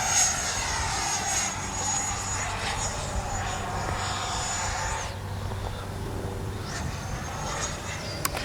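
A Freewing 90mm F-22 V2 radio-controlled jet flies at a distance, its steady ducted-fan whine whooshing past and fading as it moves away.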